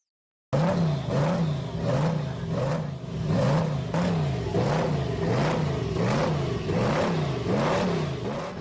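The Blast drag racing car in Sendai Pro Drag Racing revs loudly over and over, its engine pitch climbing and dropping in a quick, regular cycle with no voices.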